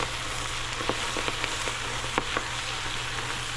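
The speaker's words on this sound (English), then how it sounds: "Mix that garlic up over it now" Garlic butter sizzles steadily in a pan as greens wilt down with garlic, a dense, continuous crackle close by with scattered sharper pops and the occasional stir, no voices.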